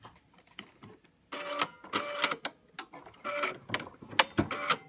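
The needle threader of a Bernina 820/830 sewing machine is worked by hand, giving a few quiet mechanical clicks and short rattling snaps close by, with no voice.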